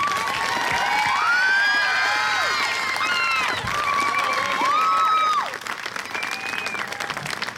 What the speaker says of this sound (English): as we applaud your outstanding efforts